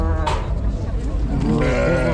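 Sheep bleat at a livestock bazaar in Kara-Balta, several close, wavering calls overlapping with people bargaining over prices nearby.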